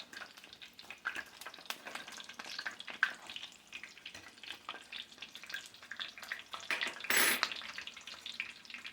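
Cabbage and bacon egg rolls fry in a pan with a soft steady sizzle and spatter, and a louder hiss bursts up briefly as they are flipped, close and quiet with no speech.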